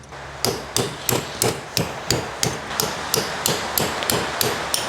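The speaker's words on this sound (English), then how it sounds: "bash all these off so we can get a socket on" Hammer bashing locking tabs off the differential bolts of a 20-year-old Toyota Land Cruiser in a shed: about a dozen loud, close metallic blows struck in a steady, even rhythm.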